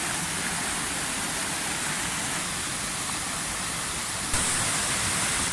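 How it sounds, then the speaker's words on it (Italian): A steeper cascade at the Etruscan ruins of Veio pours in a continuous, broadband roar of water, constant throughout and a little louder in the final second. "e qui la cascata è un pochino più ripida."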